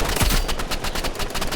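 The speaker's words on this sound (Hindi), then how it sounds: "गोली चलाने से कुछ नहीं होता।" Rapid automatic gunfire from the Rivals video game, a loud burst of repeated shots with a strong low thump near the start, steady and close throughout.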